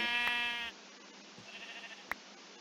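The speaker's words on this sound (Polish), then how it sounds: "To ta owca, nie ten baran" A Minecraft sheep gives one loud, clear bleat at the start, followed by quiet blocky in-game footsteps and a single sharp click.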